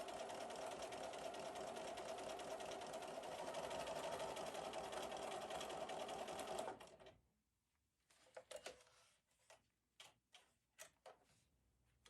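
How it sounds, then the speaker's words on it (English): A sewing machine topstitches pressed fabric strips for a cross stitch portfolio bag, running in a steady, dense mechanical stitching whir for about seven seconds, then stopping, followed by a few faint clicks and handling knocks. "I'm going to top stitch down the part that we just ironed"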